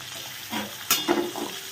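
Cut potatoes go into a pan and start frying at low flame, a faint soft sizzle with a couple of light stirring clatters, close and brief.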